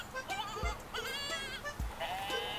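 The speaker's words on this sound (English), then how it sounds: "We have the Screaming Goat button." A screaming goat sound effect plays as several harsh, wavering bleats in quick succession, loud and close, with short thumps between them and no talk.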